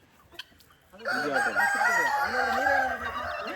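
A fighting rooster at a cockfight crows loudly and close, its long wavering call followed by overlapping crows and clucks from other fowl, with faint crowd noise underneath.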